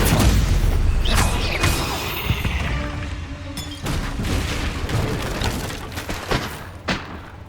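Bombarda spell blasts in the video game Hogwarts Legacy, a string of booming thuds and crashing impacts spaced irregularly over a low rumble, loud and close with no talk.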